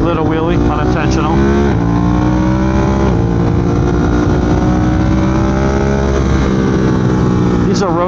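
A 2022 Triumph Speed Twin or Ducati Monster+ motorcycle engine revs hard as the bike lifts into an unintentional wheelie, loud and close with rising and falling pitch, and a rider talks over the engine.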